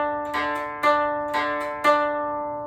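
Koto strings 1 and 5 are plucked in alternation, four bright notes in an even rhythm that ring and sustain at close range, with no voices.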